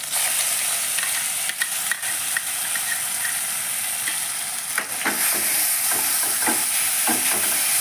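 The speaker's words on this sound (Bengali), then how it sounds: "পেঁয়াজটা এবার আমি কষিয়ে নিই।" Onion paste with three green chillies fries in a pan for a rohu fish curry, giving a steady loud sizzle with scattered scraping stir strokes and clicks throughout.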